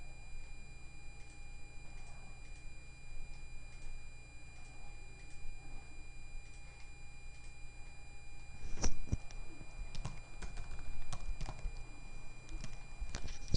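A computer keyboard clicks faintly as a folder name is typed, with a cluster of sharper, quick keystrokes near the end over a quiet hum.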